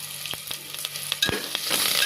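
Onion, garlic, ginger and curry leaves sauté in a pan for a Chettinad chicken gravy, a steady close sizzle broken by several sharp stirring scrapes and clacks of a spoon.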